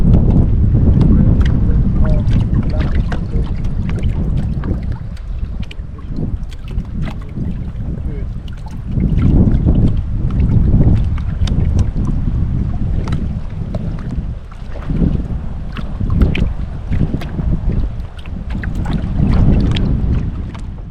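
Passing boats on West Point Lake, Georgia, a steady low motor rumble that swells and fades in waves over about twenty seconds, with wind gusts on the microphone and lapping water, some faint talk.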